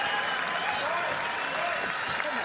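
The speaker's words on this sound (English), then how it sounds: "whips the crowd into a BMW frenzy" A large race crowd at Mount Panorama, Bathurst, applauds and cheers during a 12-hour endurance race, a dense, continuous wash of clapping heard from a distance under faint commentary.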